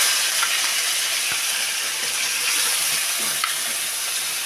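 Fish frying in hot cooking oil in a pan, a continuous close sizzle and crackle with a few faint clinks over the top.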